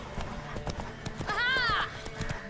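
Horse hooves clip-clop at a steady galloping rhythm during a race in The Witcher 3, with a brief whinny rising over them midway, all up close and fairly loud.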